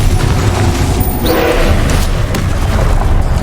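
A Confringo fire spell detonates in Hogwarts Legacy combat, a loud, dense rumbling blast that fills the whole moment with booming, crackling explosion noise.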